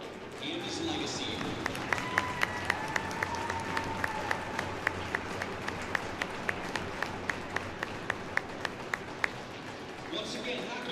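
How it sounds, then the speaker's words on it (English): A hockey arena crowd applauds during a high school varsity game, a broad steady clapping wash overlaid by sharp, regularly spaced loud claps or bangs near the listener, with crowd murmur beneath. "Let's hear a big round of applause for Keith Nord and his legacy."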